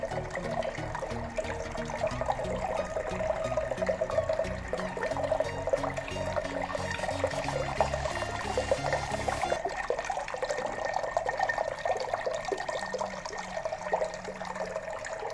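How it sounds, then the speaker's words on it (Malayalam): Water pours and splashes continuously through a small homemade mini waterfall, a steady close rushing and trickling that runs without pause, with a lower gurgle that eases off partway through. "സ്വന്തമായി ആർക്കും ഇങ്ങനെ തയ്യാറാക്കാവുന്നതാണ് ഈ വാട്ടർഫാൾസ്."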